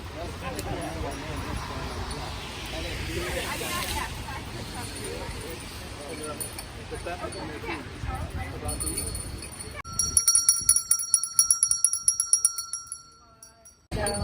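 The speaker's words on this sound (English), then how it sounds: "I'm ringing the bell." Rapid bright bell ringing starts partway through, clanging repeatedly over a busy crowd murmur that fills the first part of the clip.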